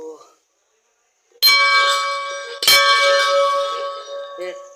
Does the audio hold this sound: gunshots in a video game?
no